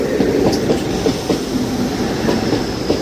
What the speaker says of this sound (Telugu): Karnataka express Bengaluru బంగారుపేట్ MEMU train crossing అవుతుంది మన ట్రైన్కి బెంగళూరు కంటోన్మెంట్ అవుటర్లో